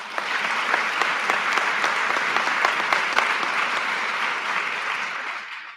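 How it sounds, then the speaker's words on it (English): Sustained applause from an audience at a police promotion ceremony, steady dense clapping for nearly six seconds before tapering off at the end. "Let's give them another round of applause."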